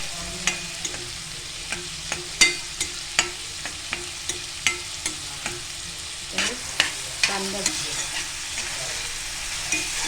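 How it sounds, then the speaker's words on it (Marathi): Paneer kheema with ginger and garlic being stirred and fried in a pan, a steady close sizzle broken by regular scraping clicks of the spoon against the pan, with no talk. "हे आता सर्व एकत्र पळतवून घेऊया आपण"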